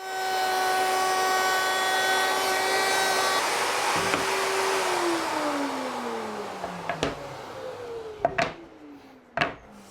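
A power tool cutting a 45-degree chamfer along the side edges of a wooden workpiece runs loud and steady up close for about four seconds, then winds down in pitch, followed by a few sharp knocks.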